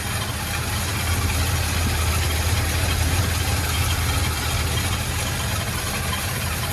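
1981 Oldsmobile Delta 88 engine idling while warming up, a steady low rumble with constant mechanical hiss heard up close and without talk.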